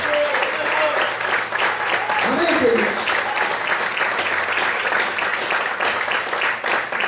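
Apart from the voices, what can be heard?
congregation applauding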